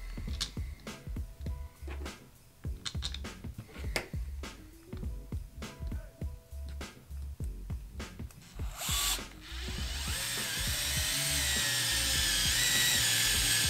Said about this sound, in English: Get the drill set up for Nate.